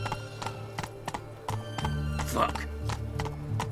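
Horse hooves clip-clop steadily on the ground in The Witcher 3: Wild Hunt video game, a regular close rhythm of sharp taps with a brief whinny, while a man mutters under the sound.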